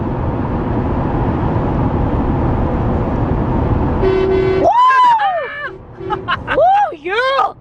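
A FedEx truck on a highway blasts its horn amid loud road and wind noise, then the horn sounds in several rising, wavering blasts while people talk and cheer nearby.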